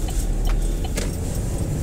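A car drives along a driving-test route in Bydgoszcz, heard from inside as a steady low road rumble and engine drone with faint rattles and jingling, no speech.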